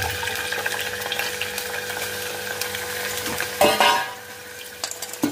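Chana dal fries in tempering oil with curry leaves, making a moderate sizzle and crackle under occasional stirring. A sharp clatter of a utensil against the pan stands out near the end.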